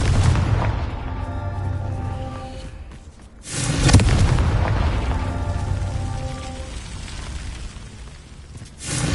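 Confringo spell explosions in Hogwarts Legacy, two heavy booming blasts with long rumbling, ringing decays, the second near the middle and louder, no talk.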